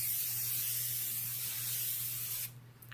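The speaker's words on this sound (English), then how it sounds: "I'm going to use my Japanesque makeup setting spray" Close, loud aerosol hiss of a Japanesque makeup setting spray bursting steadily for about two and a half seconds, then cutting off sharply into near quiet.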